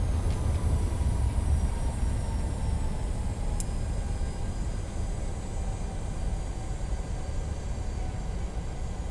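Reverse thrust from a Boeing 737-800 during landing rollout in Microsoft Flight Simulator roars as a loud, broad engine rumble that slowly eases, with a faint descending whine and a brief click partway through.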